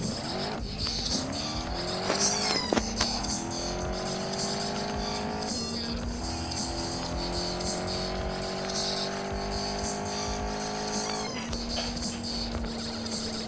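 The most expensive sports car in the video game Gangstar Vegas revs and accelerates with rising engine whine, squealing tires and skids, gear shifts repeating, loud and steady throughout.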